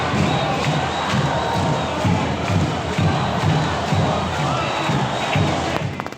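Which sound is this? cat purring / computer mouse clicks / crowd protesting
crowd protesting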